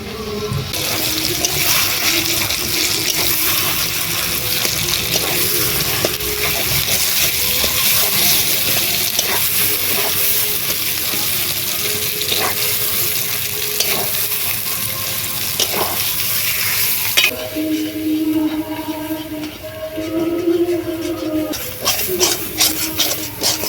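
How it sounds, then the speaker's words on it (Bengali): Ground spice paste with onion frying in a kadai while being stirred, a dense continuous hiss and sizzle with scraping of the spatula, louder and brighter at first, then thinner with clearer scraping strokes near the end. "আস্তে আস্তে করে একটু ভেজে নিতে হবে কড়াইয়ের মধ্যে নাড়তে নাড়তে"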